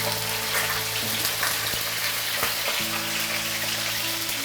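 Fish sizzles steadily in a hot pan over medium heat, a loud continuous frying hiss with faint crackles, heard alone with no talk and a low steady hum underneath.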